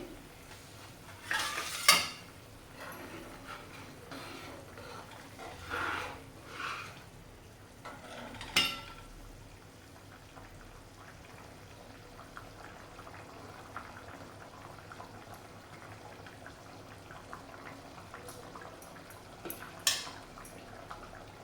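A pot of matki (moth bean) curry simmers quietly on a medium gas flame with faint bubbling. Occasional sharp clinks of a spoon against the pot break the low background.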